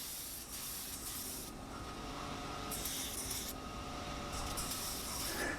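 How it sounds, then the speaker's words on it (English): Steady hiss of a spray gun applying finish to a wooden jewelry box lid, with the spray cutting in and out in bursts over continuous background noise. "doing the dance of the spray gun"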